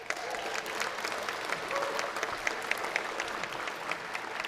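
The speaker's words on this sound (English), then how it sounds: "so give yourselves a round of applause" Sustained applause from a large audience at a cinematography awards ceremony, a dense steady patter of many hands filling the room at moderate loudness throughout.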